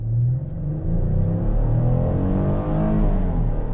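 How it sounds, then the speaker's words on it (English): A 2021 Chrysler Pacifica Pinnacle minivan accelerates on throttle through its 9-speed automatic, a steady, loud engine drone that climbs in pitch with smooth gear changes, heard from inside the cabin with no talking. "All right, guys, little acceleration test."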